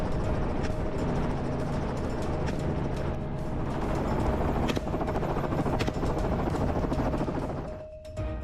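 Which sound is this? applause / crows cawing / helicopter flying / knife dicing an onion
helicopter flying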